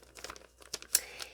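Scissors snip through a thin upcycled plastic cereal-bag liner, a few quiet crinkling cuts close by with a sharper crunchy snip near the end.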